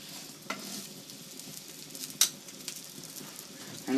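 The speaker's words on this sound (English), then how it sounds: "After a minute, carefully flip your steak" A steak fries in a hot pan with a constant, soft hiss of sizzling. A few sharp clicks and scrapes stand out, with one louder clatter near the middle, all close and fairly quiet.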